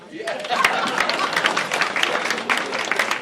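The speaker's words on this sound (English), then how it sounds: "You can applaud now." Applause from a seated audience at a hall-of-fame awards ceremony, many hands clapping in a busy, uneven patter, fairly close and steady, with a voice faintly beneath.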